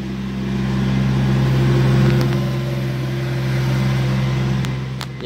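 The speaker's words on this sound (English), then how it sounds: "Now that's someone driving by." A car passes by outside, swelling gently and fading over a few seconds beneath the steady electrical drone and fan hum of a room full of graphics-card crypto mining rigs.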